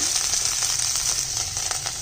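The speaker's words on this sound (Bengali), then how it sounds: "পেঁয়াজটা লাল করে ভাজা হয়ে গেছে দিয়ে দিচ্ছি" Onions sizzle as they fry to a reddish brown in a pan for a fish chorchori, a dense, continuous, close hiss with faint stirring beneath and no voices.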